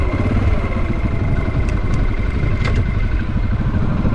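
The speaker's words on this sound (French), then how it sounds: "On la redémarre au kick, ouais, pourquoi pas." A motorcycle engine runs steadily up close, a loud, even rumble with light mechanical clatter throughout and no voices.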